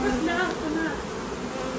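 Honeybees buzz steadily and close during a spring hive inspection at an apiary, a dense hum lasting the whole moment with no talk over it.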